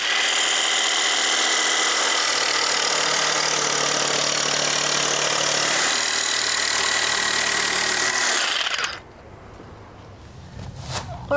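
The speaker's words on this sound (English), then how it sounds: "So to notch this piece out, I'm using a cordless jigsaw." A cordless jigsaw cuts a notch in a laminate flooring plank, a loud, close, continuous buzzing rasp for about nine seconds that stops abruptly, followed by quieter handling noises and faint clicks.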